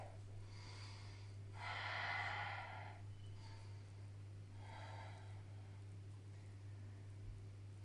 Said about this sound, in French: Toujours avec la respiration Ujjayi.